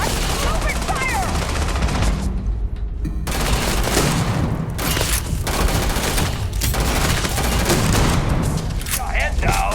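Heavy gunfire in the Starfield video game: sustained automatic bursts and rapid shots, loud and near, with brief dips, mixed with shouting voices during the firefight.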